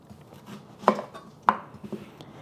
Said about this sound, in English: I have 1 onion I'm just gonna slice up.